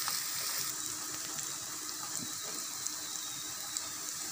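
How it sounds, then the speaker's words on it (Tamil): Onions with ginger and garlic sauté in a pan for chicken momos chutney, giving a soft, steady sizzle and hiss throughout, close but faint, with no talk. "வெங்காயம் பாதி வதங்கின உடனே இதுக்கு தேவையான அளவு கொஞ்சமாக இஞ்சி பூண்டு"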